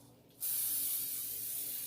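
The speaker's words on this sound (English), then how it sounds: "I'm going to cheat some by adding some butter flavored spray to this." A steady burst of butter-flavored cooking spray onto a tube cake pan comes on after a brief quiet moment and hisses continuously, close and loud, for over a second.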